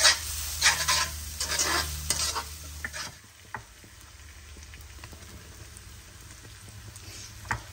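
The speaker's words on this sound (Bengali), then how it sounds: "এটাকে ভাজা ভাজা করবো।" Oil sizzles and crackles in a pan with stirring scrapes as chicken fries, loud at first with clattering, then settling into a steady, quieter frying hiss.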